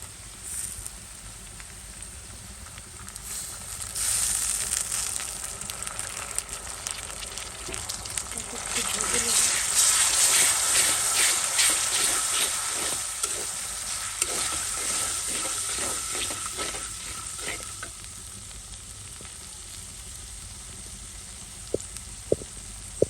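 Ginger and garlic sizzle and fry in a pan while a utensil stirs them with repeated scraping strokes, the frying swelling louder midway and then settling to a steady hiss near the mic, with a couple of sharp clicks at the end.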